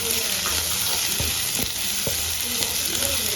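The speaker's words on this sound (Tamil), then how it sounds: "இப்போ கட் பண்ணி வச்சிருக்க பச்சை மிளகா உள்ள போட்டு ஒரு 2 கலரி விட்டுக்கலாம்." Green chillies and onions sautéing in a pan for a Tamil pepper chicken fry, giving a steady close sizzle with scattered scraping stirs and light clicks of a spatula, no voices.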